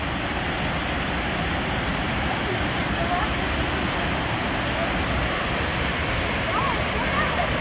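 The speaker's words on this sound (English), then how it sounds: "Powerful winds from the waterfall." Roaring waterfall and strong wind on a forest hiking trail form a loud, unbroken rush of broadband noise that fills the whole stretch, close and steady without pauses.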